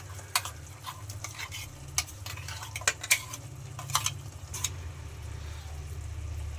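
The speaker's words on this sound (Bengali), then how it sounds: "বাটা মশলাটা দিয়ে কিছুক্ষণ নাড়িয়ে আর চারিদিকে ছড়িয়ে দিতে হবে" Ground spice paste being stirred into yogurt chicken in a pan, cooked without oil: steady close scraping and soft clatter of a spoon against the pan over a low continuous hum, with intermittent sharper knocks.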